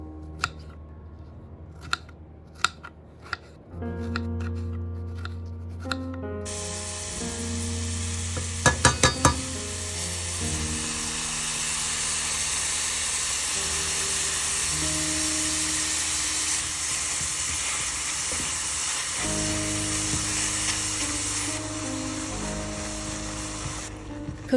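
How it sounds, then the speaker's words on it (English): Mixed berries simmer and sizzle in a pan as they cook down into a quick jam, a steady bright bubbling that runs nearly the whole time over soft background music, with a few sharp taps near the start. "Cook your berries until the fruit has broken down and has thickened slightly."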